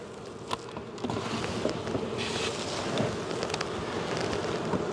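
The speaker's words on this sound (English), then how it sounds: "But I just wanted to bring some of the bees up here." Honey bees buzz steadily around a hive at close range during a hive split, a continuous droning hum with occasional faint clicks and knocks.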